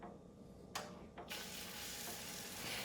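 Texas toast slices soaked in a nutmeg, honey and vanilla custard hitting a hot pan, a couple of sharp clatters giving way to a steady, close sizzle that fills the rest of the moment.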